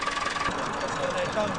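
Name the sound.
vintage tractor engine idling at a ploughing match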